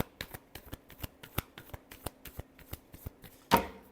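Tarot cards being shuffled by hand, quiet rapid riffling taps in a steady run of about twenty flicks, ending with one sharper slap as the deck comes together.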